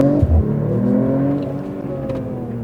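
A Mercedes-AMG CLE 53 in Sport mode with its exhaust open hums with a close, steady engine drone and a brief rev at the start before settling into an even cruise.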